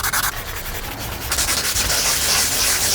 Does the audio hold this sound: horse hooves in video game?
no